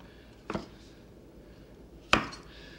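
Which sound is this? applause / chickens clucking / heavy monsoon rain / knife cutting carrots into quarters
knife cutting carrots into quarters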